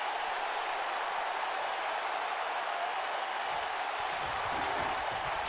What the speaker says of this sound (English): And the crowd glad to see it as well. You could hear the reaction.